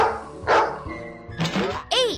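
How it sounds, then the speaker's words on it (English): A cartoon dog in a children's puzzle game gives a few short, loud bow-wow barks, ending in a bright yip. "Dog."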